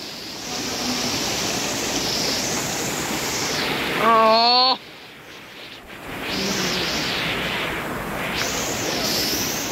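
Rushing water of a waterfall stream at Ganjnameh in Hamedan roars steadily and close, broken briefly by a tonal sound and a short dip before the loud flow returns.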